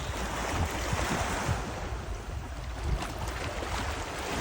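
Sea waves wash onto Almyrida Beach in Crete, a broad, steady surf hiss mixed with wind buffeting the microphone, continuous and moderately loud for several seconds with no voices.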